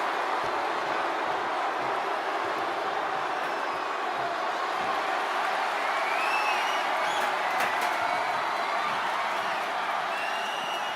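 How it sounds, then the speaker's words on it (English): Crowd applause and cheering fill an arena during a Money in the Bank wrestling match in the WWE 2K25 video game, a dense, steady roar of clapping that holds evenly throughout with no talk. "this crowd is on their feet in full appreciation"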